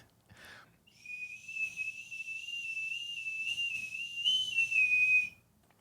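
A handheld whistle instrument plays a single sustained, slightly wavering high tone for about four seconds, close and clear, preceded by a short breathy burst, with faint room background.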